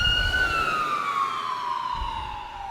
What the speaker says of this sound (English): I'm going to let that ambulance go by.